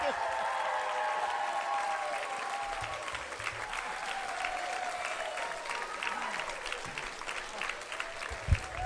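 An audience at a live evening show claps in sustained, dense applause that carries steadily throughout, with a voice speaking over it and a few whoops.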